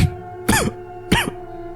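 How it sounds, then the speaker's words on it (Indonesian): Two dry, sharp coughs from a single person, spaced about half a second apart, close and distinct against a quiet background. "karena suara batuk itu masih saja mengganggu."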